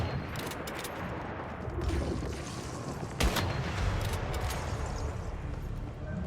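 Rapid, dense gunfire in the video game Once Human, firing continuously at close range with sharp bursts and booms layered over a busy battle soundscape, no speech over it.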